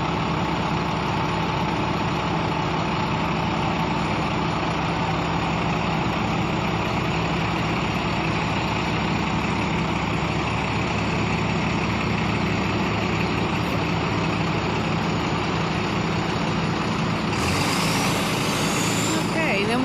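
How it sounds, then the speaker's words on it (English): A truck engine idles steadily as the truck pulls out from under a lifted box, a loud continuous diesel rumble throughout with a brief hiss like an air brake near the end. "he's just gonna drive the truck out from under it"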